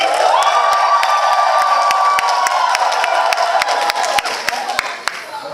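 Women in a theatre audience at a live comedy show shout and shriek with joy on cue, a loud sustained burst of high cheering and whoops dense with voices, with scattered claps running through it and thinning toward the end.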